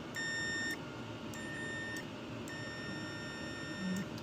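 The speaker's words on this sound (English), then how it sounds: "You can hear it on the multimeter." A multimeter in continuity mode beeps while car brake switch wires are tested, giving four short high-pitched electronic tones at irregular intervals over a faint background hum, with no talking.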